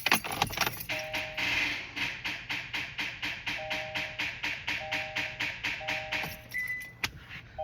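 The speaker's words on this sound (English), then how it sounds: "So I went to move my car out of the garage and listen to this." Car moving out of a home garage making a strange rhythmic noise, a steady fast clicking or jangling knock repeating evenly several times per second for several seconds, close and fairly loud with no talking.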